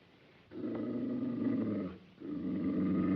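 A dog growls low and steadily in the classic film The Call of the Wild, two sustained rumbling growls up close, separated by a brief pause, with no talk over them.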